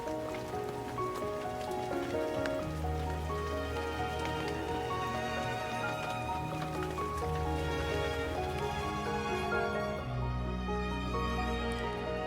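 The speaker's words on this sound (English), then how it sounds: "Today, like many days this spring, it's very rainy." Rain falls steadily outside a window on a spring morning, a dense patter running continuously and evenly throughout, with no talking.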